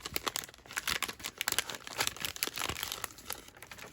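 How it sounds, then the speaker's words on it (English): Sheets of an Echo Park summer patterned paper pad are flipped through, giving a quiet, close run of rapid papery rustles and crinkles with irregular bursts. "We'll do a little flip through."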